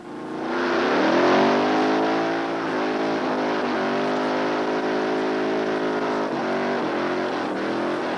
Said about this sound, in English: the Burnout Contest furnishes some of the power, sound, and excitement of drag racing